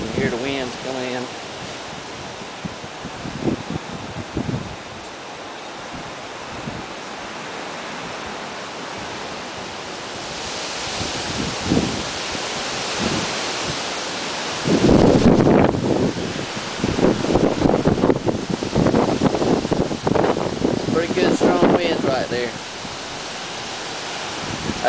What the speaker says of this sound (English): you can hear the winds coming in.